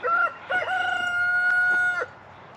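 A rooster crows once, loud and close, a long drawn-out call after a brief opening squawk, with nothing else around it.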